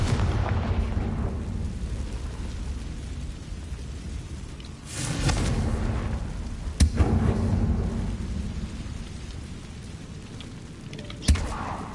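A Confringo blasting spell in Hogwarts Legacy goes off as deep, rumbling booms with sharp cracks, two distinct bangs standing out over a continuous low roar, with no talking.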